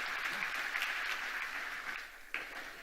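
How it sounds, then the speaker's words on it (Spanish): A church congregation applauding during a Spanish-language service, steady dense clapping at a moderate distance that fades slightly toward the end. "Dele un aplauso al Señor por el regalo de la Biblia, de la palabra de Dios."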